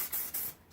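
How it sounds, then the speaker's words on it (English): Aerosol spray paint can laying a light black coat on a skateboard, a few quiet short hissing bursts close by, then fading to near silence. "I want to spray a light coat"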